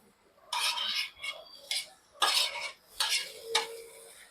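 Tomatoes tossed into a pan with ghee for masala Maggi and stirred, several bursts of spoon scraping and clattering against the metal pan, close by, with short pauses between strokes.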